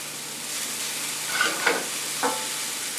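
Vegetables sautéing with chilies in a hot pan for General Tso's chicken, a continuous close sizzle with a few brief stirring scrapes and spits rising over it, no voices.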